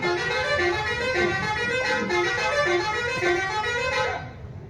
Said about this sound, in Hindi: वो बेचारा हॉर्न मार रहा है।